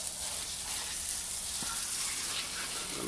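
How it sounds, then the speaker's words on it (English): Water spray rinsing grime off the convertible top of a 1973 Chevrolet Caprice, a steady, loud hissing wash that runs unbroken throughout. "Rinsing it off, rinsing it off."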